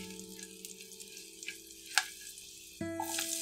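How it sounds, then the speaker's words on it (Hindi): Garlic frying in oil in a pan, a soft, steady sizzle with faint bubbling and a few small crackles, quiet and close, heard alone without talk. "सबसे पहले लहसुन डालकर इसे हल्का सा गोल्डन होने तक फ्राई करें"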